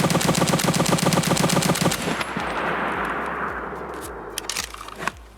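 Unsuppressed RSASS rifle fire in Escape From Tarkov: a loud, rapid string of close shots for about two seconds, followed by a reverberant tail and a few scattered single shots later on.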